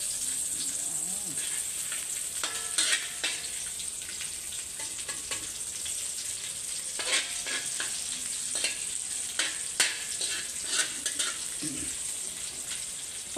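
Garlic fries in butter in a pan with a steady close sizzle, broken by clinks and scrapes of stirring and a few faint voices.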